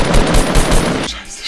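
Rapid automatic gunfire in a video game rattles in a dense, continuous burst for about a second, then cuts off abruptly.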